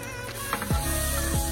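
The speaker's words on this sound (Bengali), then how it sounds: "এখন এর মধ্যে একটা তেজপাতা, 2টা কার্ডামম আর 2টা সিনামন দিয়ে দিচ্ছি।" A bay leaf, cardamom pods and cinnamon sizzle in melted butter for paneer butter masala, a close crackling fry with a brief scrape and a couple of sharper pops as they hit the pan.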